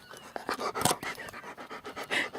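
Wet dogs passing by on a beach, panting rapidly and rhythmically at close range in quick breathy bursts, fairly faint against a quiet outdoor background.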